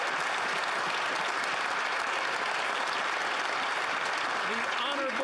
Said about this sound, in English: give a big round of applause for all the Special Olympic athletes this week